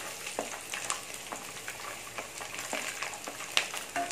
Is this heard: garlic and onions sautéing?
yes